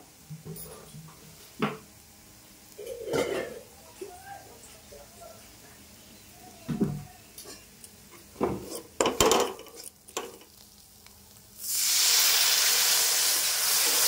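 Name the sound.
water added to hot frying spice masala, sizzling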